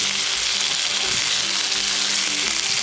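Bourbon chicken pieces sear in a hot pan with a steady, loud, dense sizzle and crackle throughout, with no voices.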